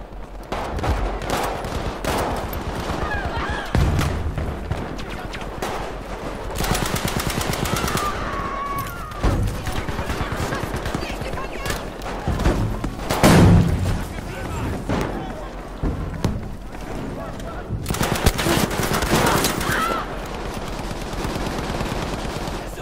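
Sustained automatic gunfire and scattered shots from a Battlefield match, loud and dense throughout, with someone talking over the shooting.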